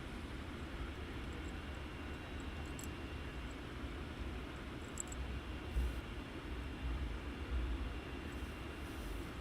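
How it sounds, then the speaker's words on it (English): An EasyJet airliner taxis at Luton Airport, a distant, steady broad engine rumble and hiss with a few faint higher tones, no voices. "So we have an EasyJet taxiing out."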